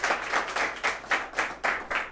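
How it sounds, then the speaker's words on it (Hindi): An audience claps at a student award ceremony, a short burst of rhythmic, fairly even group clapping with regular pulses. "इसके लिए भी जोरदार तालियां हो जाएं।"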